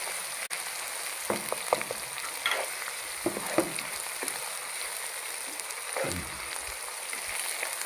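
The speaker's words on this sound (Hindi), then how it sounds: "ये देखें माशाल्लाह अदरक लहसुन और हरी मिर्चें हमारी फ्राई हो गई हैं" Ginger, garlic and green chillies frying in a pan, a steady close sizzle with scattered pops and soft stirring scrapes throughout.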